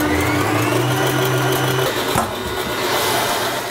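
A stand mixer whips egg whites for cupcakes. Its motor gives a loud, steady whine close by and shifts pitch partway through as the speed changes, with no speech.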